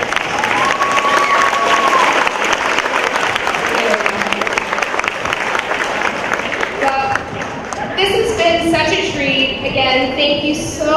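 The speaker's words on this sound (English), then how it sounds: "I think she deserves a round of applause for me" Audience applause at a school anti-bullying assembly fills the space with dense, loud clapping from a large crowd, sustained throughout with faint voices mixed in.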